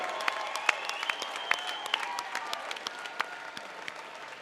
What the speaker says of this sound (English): one more round of applause for a fantastic fight